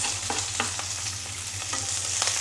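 Garlic and onion sautéing in a pan, a steady close sizzle with repeated scraping stirs of a utensil, no voices.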